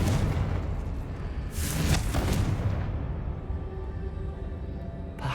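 A Confringo blasting spell in a video game goes off as a loud, booming explosion with a burst of crackling debris that quickly settles into a low rumbling tail, no voices over it.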